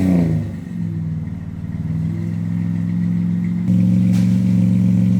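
Car engine on a road test drive, running in a low steady hum that rises into a firmer, louder revving drone partway through, close and unaccompanied.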